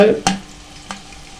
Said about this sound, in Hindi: प्याज को हम ज़्यादा फ्राई नहीं करेंगे